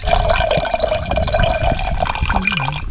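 Boiled nannari root decoction being poured, a continuous close liquid splashing and trickling with small drips, no voices.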